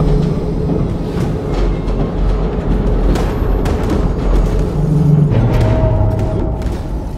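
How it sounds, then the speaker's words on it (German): A train ride in the video game Wolfenstein 2: The New Colossus gives a loud, continuous rolling rumble with rhythmic clacks and low booms, steady throughout with no talking. "Oh, Zug fahren. Das wollte ich schon immer machen."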